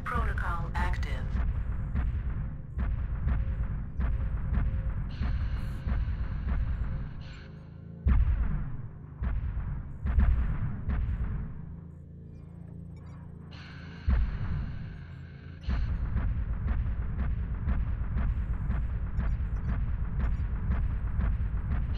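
Heavy artillery fire from a tank strike in a first-person combat video game, a continuous loud barrage of booming blasts with repeated sharp impacts and rumbling explosions across the whole stretch.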